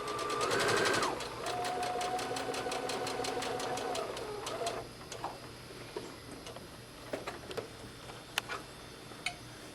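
A sewing machine runs a straight stitch along a folded edge around a skirt, a fast steady ticking whir for about four seconds, then slowing to scattered clicks and taps as it stops.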